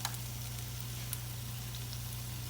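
Conch fritters frying in hot oil, a steady, faint sizzle with fine crackling pops over a low constant hum, close and uninterrupted with no voices.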